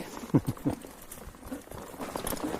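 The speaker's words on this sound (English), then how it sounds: "the horses, they're enjoying the stroll down the stream here" Horses stepping down a shallow stream during a pack trip in Grand Gulch, with a few close, irregular hoof clops and splashy steps over a soft background wash.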